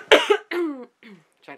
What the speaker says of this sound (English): try to clear my throat